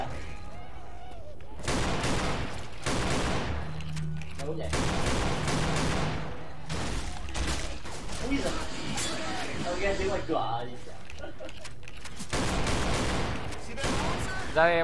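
Gunfire in the co-op zombie shooter Left 4 Dead 2 (The Undead Zone map): repeated loud bursts and volleys in a chaotic fight, with players talking excitedly over much of it.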